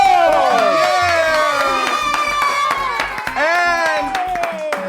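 A studio audience of schoolchildren cheers and shouts in excitement for a winning school maths team, with scattered handclaps running underneath the loud, steady crowd voices.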